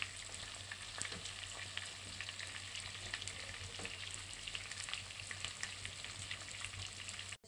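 Meat kofta fries in hot oil, giving a continuous, fairly faint crackling sizzle with scattered pops and a low steady hum beneath, running alone without voices.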